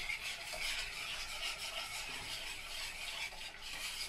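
Homemade custard stirred continuously in a pan, a steady close scraping and swishing with a faint sizzle underneath, unbroken throughout.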